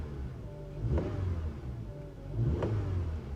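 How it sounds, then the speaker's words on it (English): Hyundai Kona engine at a salvage auction lot, revved twice in quick succession: two rising mid-pitched engine swells over a steady idle, fairly close and fairly loud, with no talking. "Let's give her a little rev."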